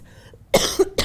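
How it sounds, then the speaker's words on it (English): A person has a coughing fit during a meeting, with three sharp, close coughs in quick succession after a quiet start. "While I'm having a coughing fit"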